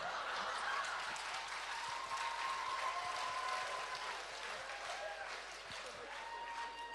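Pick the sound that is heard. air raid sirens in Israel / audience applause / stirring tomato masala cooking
audience applause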